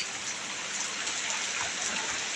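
Steady rain hisses evenly without a break, a dense wash of drops falling on surfaces nearby, during a heavy monsoon downpour in Jogewal, Punjab.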